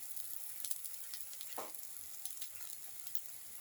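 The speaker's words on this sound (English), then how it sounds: "and let it fry" An omelette fries in a pan, giving a faint, steady sizzle with a few soft pops and one brief louder crackle partway through, and no voices.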